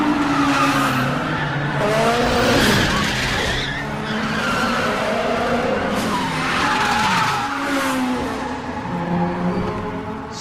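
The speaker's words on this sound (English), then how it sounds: "he attempts to drift around a corner at high speed" Car drifting around a corner at high speed in a street-racing scene from the film Tokyo Drift, with loud, sustained tire squeals and engine roar over about ten seconds, the screech rising and falling as the car slides through the turn.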